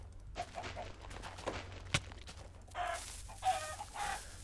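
Dire chickens in Minecraft cluck in short, fairly close bursts with brief pauses between them, mixed with a few soft in-game footstep-like taps and one sharp click.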